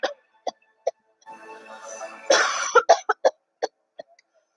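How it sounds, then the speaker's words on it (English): A person coughs repeatedly in short, sharp bursts, with a longer rough fit of coughing in the middle. "she can't stop coughing."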